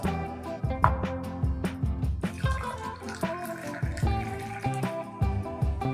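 Tea poured from a height into a glass in a Kerala kitchen gives a steady liquid splashing and trickling stream, close and continuous, with small drips and clinks and no talking.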